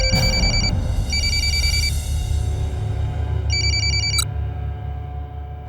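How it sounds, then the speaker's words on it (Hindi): A telephone rings in three bright electronic bursts, loud and near, over a steady low background hum. "प्लीज मेरा फोन उठाओ"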